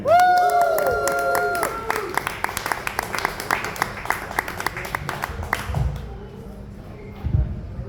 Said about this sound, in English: Please, everybody, make some noise for the 40th set of Ronald Warren, everybody.